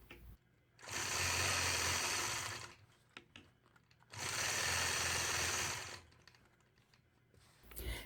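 A sewing machine stitches echo lines across a nine-patch quilt block in two sustained bursts of fast, even whirring, each about two seconds long, separated by quiet pauses.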